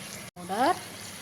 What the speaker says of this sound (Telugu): ఇప్పుడు వీటిని కలుపుకొని ఒక 10 నిమిషాలు మగ్గినాక వాటర్ పోస్తున్నాం దీంట్లో.